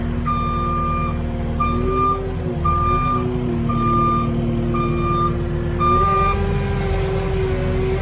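A machine's reversing alarm beeps steadily and loudly, about once a second, over a running diesel engine as it is backed off a trailer outdoors at a storm cleanup site.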